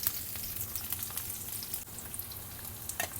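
Vegetables sauté in a pan on a home stovetop, a steady close crackling sizzle with brief louder spits near the end, no voices.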